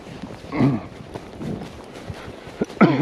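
A few young colts trot on a ranch with a cow dog alongside, hooves thudding softly and unevenly in the background, joined by a couple of louder nearby sounds and brief voices.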